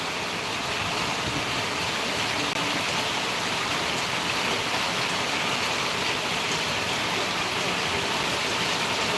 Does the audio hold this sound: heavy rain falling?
yes